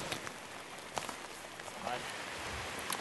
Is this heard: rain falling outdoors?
yes